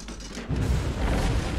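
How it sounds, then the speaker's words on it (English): Fireworks in the game Dead by Daylight during its Moonrise event, a low boom that swells into a rumbling, crackling burst and lingers for about a second. "Fireworks!"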